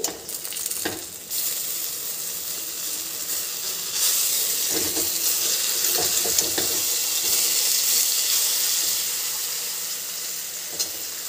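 Pointed gourd (potol) pieces frying in hot oil in a kadai, a steady hissing sizzle with a few spatula knocks and scrapes as the pieces are turned, close and moderately loud.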